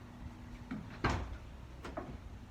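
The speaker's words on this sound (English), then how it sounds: "Door is open." A makeshift truck door held on a string swings open with a quiet creak, a louder thump near the middle and a light knock shortly after, fairly close.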